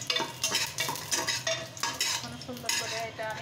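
Bay leaves, cinnamon, cardamom and cloves fry in a pan for beef bhuna, with a close sizzle broken by repeated scraping strokes of a spoon stirring against the metal.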